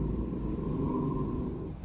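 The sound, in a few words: Roomba robot vacuum cleaner running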